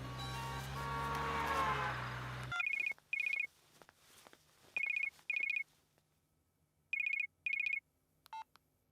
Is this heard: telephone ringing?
yes